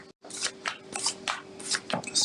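Tarot cards are shuffled close by in quick, papery bursts of riffling and sliding, repeating rapidly for a couple of seconds.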